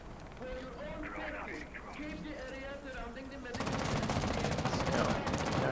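Rapid automatic gunfire from a Rainbow Six Siege Pro League match on Xbox bursts in loudly halfway through, following steady commentator talk that carries on beneath the shooting.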